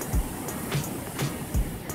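Ocean surf at Teluk Nanggung Sono beach in early morning, soft waves washing in with a few low thumps of breaking water, steady and moderately near, no voices.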